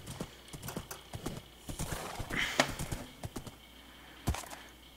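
Horse hooves clip-clop in a video game, a quick uneven run of hoofbeats with a whinny, moderately close and fairly quiet, with a few sharp clicks mixed in.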